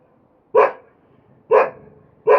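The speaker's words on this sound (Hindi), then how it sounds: "तो मुझे इसकी भौंकने की आवाज़ आई" A pet dog named Toofan barks three times outside a village house, each bark sharp and fairly loud, spaced about a second apart against a quiet background.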